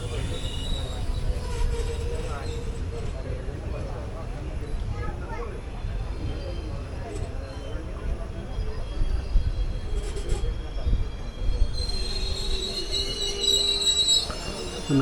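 A passenger train pulls out of Vadakkanchery station in Kerala while another train approaches on the opposite line. Loud, continuous rumbling and wheel squeal surround the listener from inside the carriage, with people talking.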